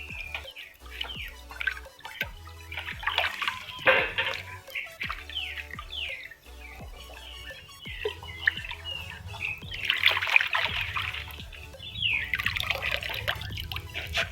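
About ten litres of water trickles and splashes softly as it is poured through a filter to catch dust and sediment, a faint, intermittent liquid sound with birds chirping in the background.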